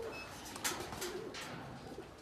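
Racing pigeons back at the loft after a 156 km training flight, soft cooing calls at low level, a few brief coos close by amid quiet surroundings.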